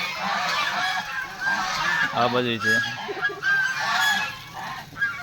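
Geese honk repeatedly in loud, overlapping calls close by, with a person speaking briefly among them.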